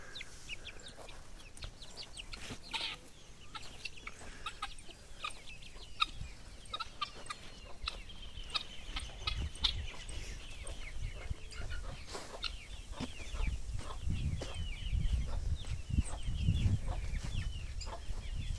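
Chickens and other fowl cluck and chatter in a loose, continuous flock chorus while being fed a big pot of cooked corn, with some low rumbling and handling noise underneath.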